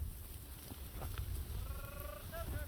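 Several short bleats from sheep near the end, over steady background noise and low rumble, with faint human voices around them.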